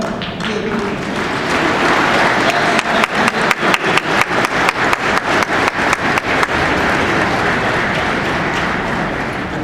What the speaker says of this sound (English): Soldiers, please give your families a round of applause.